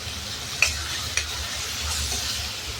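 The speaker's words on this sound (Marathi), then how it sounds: "तेलामध्ये डाळ छान परतून घ्यायची आपल्याला." Moong dal frying in oil in a pan, giving a steady close sizzle with a couple of sharp stirring clinks and scrapes against the pan.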